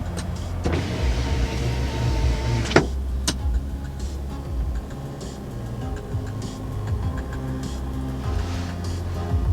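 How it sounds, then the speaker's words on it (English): Power sliding rear glass on a 2019 Chevy Silverado 1500 pickup cab hums as a steady motor whir with small clicks at the start and stop, heard close up with no voices. "that convenience package does include power sliding rear glass"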